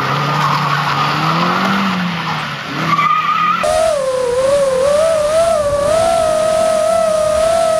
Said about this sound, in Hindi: ये गाड़ी ड्रिफ्ट कर रही थी वो देखी होगी आप लोगों ने।